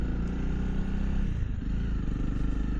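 A 2025 Honda CRF300L Rally motorcycle being ridden, its engine running steadily and close with a continuous low rumble, with a brief dip in level midway before resuming.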